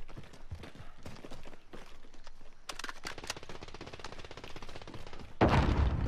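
Rapid bursts of automatic gunfire in Call of Duty Warzone, rattling volleys near and far with brief gaps, then a louder close burst at the end.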